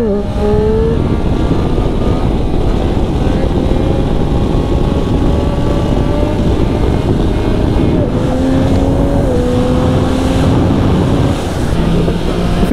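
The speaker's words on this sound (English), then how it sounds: "Right, here's a wheelie." A 2020 Triumph Street Triple RS revs hard on a track during a wheelie, its loud, close engine note climbing through gears with shifts, buffeted by wind noise throughout.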